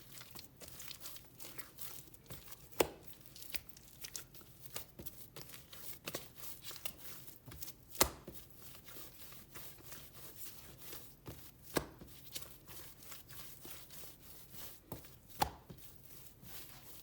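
Whole wheat bread dough kneaded by hand on a worktop makes a steady run of soft, sticky slapping and squishing sounds, with occasional sharper thumps, close and fairly quiet, with no talk.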